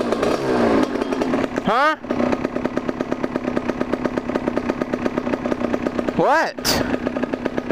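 A small engine idling low and steady with a fast, even putter, probably on a chainsaw or motorcycle, runs loud and close throughout while people talk briefly over it.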